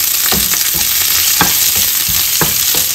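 Red onions go into a pan of frying squid adobo, giving a loud, dense sizzle with repeated scraping and stirring knocks from a utensil against the pan.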